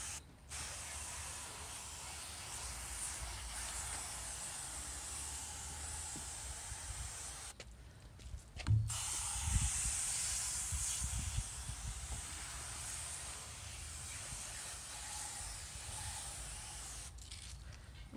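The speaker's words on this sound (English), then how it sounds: "All right, now we're gonna take our hose. And we're just gonna come in here. Start at the top." A garden hose sprays water down a neglected doorjamb from top to bottom, giving a steady close hiss that stops briefly midway, with a few low knocks as the spray shifts, then resumes.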